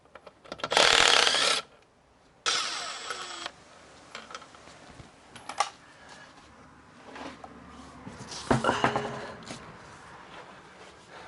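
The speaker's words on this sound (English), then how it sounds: "we're going to take this wheel back off now" Tools work on the wheel of a converted two-door widebody Alfa Romeo Giulietta, giving bursts of ratcheting and mechanical clicking with short rattles and pauses between them.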